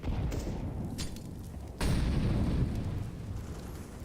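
A grenade goes off in a Counter-Strike match, a muffled blast that jumps louder midway amid other rumbling gunfire and explosions.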